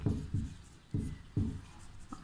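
Chalk or a marker writes on a board during a chemistry class, making four or five short scratchy strokes in quick succession, close and fairly clear with no talk.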